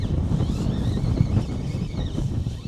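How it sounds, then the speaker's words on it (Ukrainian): Steady wind buffets the microphone outdoors on a feeder fishing trip, a low, rumbling roar that holds throughout, with no voices. "вітер дує."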